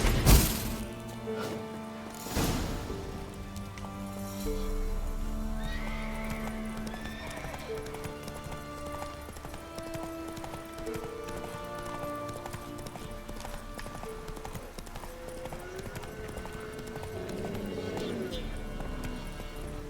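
Roach the horse gallops in The Witcher 3 with steady clip-clop hoofbeats, a whinny near the start and scattered game music and effects, all at moderate loudness throughout.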